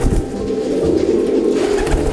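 A young male pigeon coos in courtship, a low, throaty, continuous burbling rolling close by for about two seconds with no talk.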